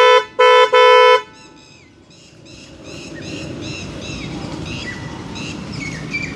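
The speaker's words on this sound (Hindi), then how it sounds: "ये लो टोन हॉर्न है, इसको अब हाई टोन हॉर्न की आवाज़ सुन लेते एक बार।" Roots Windtone 90 red trumpet car horn, low tone, gives three loud blasts, two short and one longer, then fades into outdoor ambience with chirping birds in the background.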